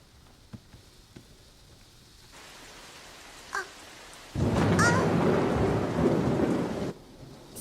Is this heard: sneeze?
no